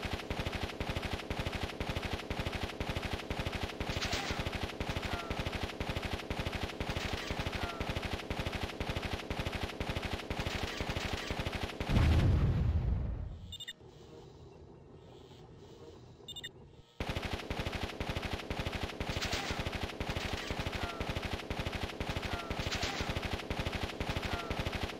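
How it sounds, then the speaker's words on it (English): A machine gun tank in the strategy game Warzone 2100 fires rapid, evenly spaced bursts at towers, loud and continuous, broken by a heavy explosion and a few seconds of quieter rumble before the steady rattling resumes. "since machine guns outrange flamers, I'll take a single tank, set it to long-range fire, and use it to carefully take out the towers"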